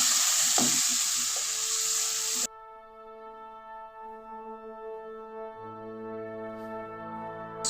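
Spices and ginger-garlic paste sizzle loudly in a hot pan while tomato chicken is being cooked. The frying is close and crackling for about two and a half seconds, then cuts off into sustained musical tones.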